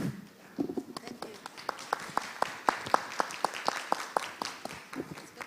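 Summit audience members applaud panelists with scattered but steady hand claps, a handful of people clapping in a quick, even rhythm that fills the room at moderate loudness, with a brief voice near the start.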